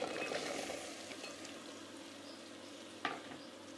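Okra sizzles as it fries in a pan for masala bhindi, a steady dense crackle that fades slightly over a few seconds, with one brief clatter near the end and no voices.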